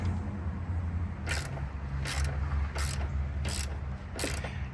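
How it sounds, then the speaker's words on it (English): A quarter-inch drive socket ratchet with a small extension clicks in five short, evenly spaced bursts while loosening front fender bolts on a 2006-2007 Subaru Impreza, set against a low steady background hum. "the easiest way I can take these off is with a quarter drive socket with a little extension"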